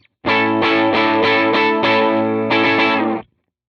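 Electric guitar played through a multi-effect unit's amp model with the drive turned down for a worship tone, giving mildly broken-up, chorus-tinged strummed chords that ring in several even pulses, then a final sustained chord cut to silence.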